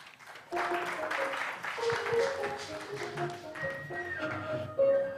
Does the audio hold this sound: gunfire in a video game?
no